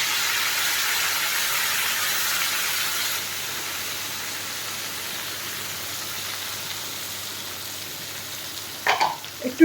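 Spice paste fries with pointed gourd in a pan, giving a steady close sizzle that eases after about three seconds, with a few brief clatters of utensils near the end.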